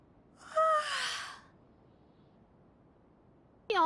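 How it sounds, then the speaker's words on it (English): A single drawn-out yawn from a character in the video game Genshin Impact, close and breathy with a voiced rise, lasting about a second before quiet returns, then a brief voiced onset at the very end. "Yawn."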